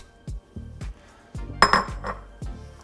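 Cooked butternut squash tipped into a soup pot, heard as a series of soft thuds and clinks of utensil against pot, quiet and spaced out with no talking.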